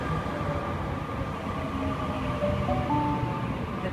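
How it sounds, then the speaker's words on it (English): A Sydney Trains Waratah A63 set pulls into platform 2 at Berowra station. A steady rumble of wheels and motors runs throughout, with faint brake squeals and whines above it, moderately loud and fairly close. "Here we have Waratah A63 arriving into platform 2."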